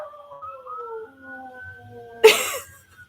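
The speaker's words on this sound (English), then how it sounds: "Can you guys hear my dog?" A dog howls in long, wavering, high-pitched tones along with sirens for a couple of seconds, then a sudden burst of noise cuts in near the end.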